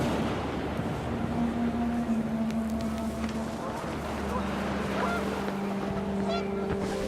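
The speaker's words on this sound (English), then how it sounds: "The wind picked up, and panicked geese appeared and quickly went." Panicked geese honking in the video game What Remains of Edith Finch as the wind picks up, a few sustained honks over a windy outdoor bed, moderately loud and close.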